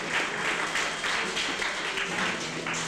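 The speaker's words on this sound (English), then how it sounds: "Can we give the staff a wee clap?" An audience at a folk festival club night on the Island of Bute claps for the staff, producing a steady, moderately close patter of many hands that continues evenly throughout.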